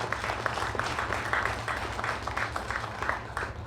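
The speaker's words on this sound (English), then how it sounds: "So a round of applause to everyone who has ever been a part of that" Crowd applause at a Jersey City Police Unity Tour gathering, moderate and somewhat distant, with individual claps poking through a steady rhythm.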